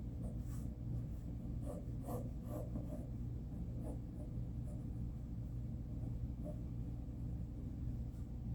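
Pencil strokes scratching across paper while sketching the lower edge of a figure's deltoid muscle, soft intermittent scrapes over a steady low rumble, no talking.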